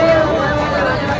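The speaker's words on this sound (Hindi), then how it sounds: "बाप रे कितनी भीड़ है।" Large crowd chatter at Prem Mandir in Vrindavan at night: a dense, continuous babble of many voices close by, with one nearer voice speaking over it.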